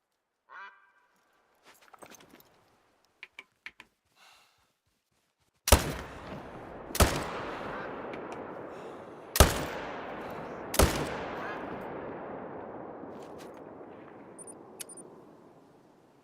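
Four loud, sharp gunshots in a boar hunting game set in Scotland, spaced a second or more apart, each with a long echoing decay, following a few faint clicks and calls.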